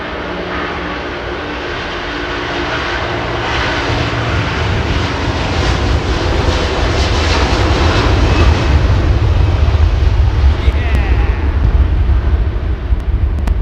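Jet airliner engines at London Heathrow spool up for the takeoff roll, a loud, dense, steady roar that builds slightly in intensity over about fourteen seconds, with broad rushing noise and no voices.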